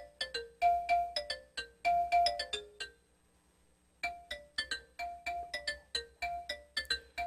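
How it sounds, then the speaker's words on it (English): A phone ringtone chirps in quick repeated bursts of bright electronic tones, pausing for about a second before starting up again, loud and close with no talking. "My phone is blowing up here."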